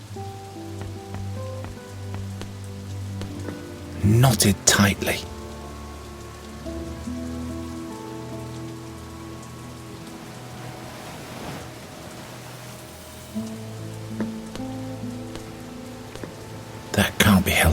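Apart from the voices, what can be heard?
rain falling, from a video game (The Dark Eye: Chains of Satinav)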